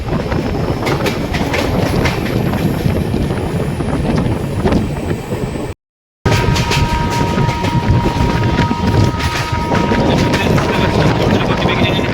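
The Sealdah–Sabroom Kanchanjunga Express with LHB coaches runs near Baranagar station, a loud, steady rumble with rhythmic wheel clatter and wind buffeting heard from close by, briefly cutting out midway.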